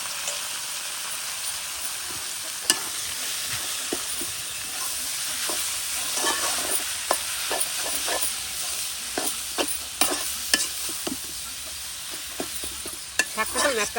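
Leafy greens stir-fried in a pan with fried onion for a tempering give a steady, close sizzle with scraping stir strokes and sharp clicks of the spatula that come more often toward the end.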